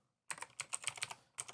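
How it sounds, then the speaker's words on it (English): Fingers type an email address on a computer keyboard in a studio setting, a fast run of close, crisp key clicks after a brief silence, pausing once before a final burst of keystrokes. "You're going to type in"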